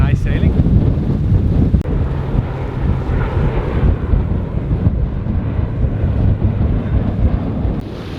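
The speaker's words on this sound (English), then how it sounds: "As we enter the Sound of Mull, as expected, the wind is against us" Strong wind buffeting a sailing boat at sea in the Sound of Mull off Scotland, a loud, close, continuous roar with gusty surges and low rumble, sails up and the wind against the boat.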